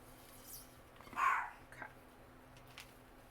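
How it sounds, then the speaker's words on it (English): A single short dog bark rings out at moderate distance over a quiet background, with a couple of faint softer yips around it. "He's been barking nonstop all day."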